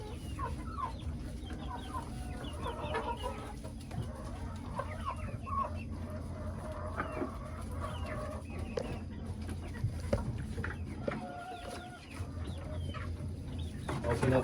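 Naked neck chickens cluck repeatedly in a backyard coop, steady overlapping clucks at moderate volume with occasional louder calls.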